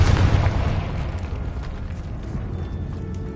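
A Confringo fire spell bursts in Hogwarts Legacy, landing as one loud, close explosion with a deep low-end boom that slowly decays into a rumbling tail over the game's ambience.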